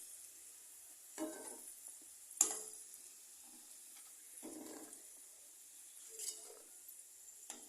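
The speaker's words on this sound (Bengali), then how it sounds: "এগুলো আমি আস্তে আস্তে করে তেল থেকে তুলে দিচ্ছি, কড়াই থেকে তুলে দিচ্ছি" Soft sizzling of hot oil in a wok with occasional scraping and clinks as a utensil lifts fried beans out, fairly quiet with brief louder bursts.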